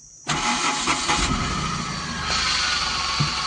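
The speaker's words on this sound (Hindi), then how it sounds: "तो न्यूट्रल किया, क्लच प्रेस किया और स्टार्ट करेंगे।" A Tata Nano car engine cranks briefly and catches, then settles into a steady, close idle that carries on to the end, with no talking.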